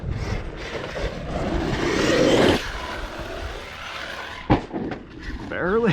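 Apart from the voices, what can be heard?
Arrma Outcast 8S RC car at full throttle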